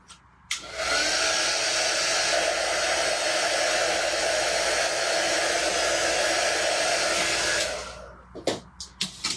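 A hair dryer blows steadily on wet paint on a craft door hanger, switched on with a click and running loud and even for about seven seconds before cutting off, followed by a few handling knocks.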